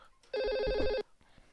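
A telephone rings during a livestream, one clear electronic ring burst of about 0.7 seconds with steady bright tones, loud against near-silence before and after.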